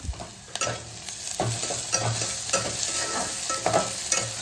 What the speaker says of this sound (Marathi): आता कांदा आणि आलं लसणाची पेस्ट भाजून झालेली आहे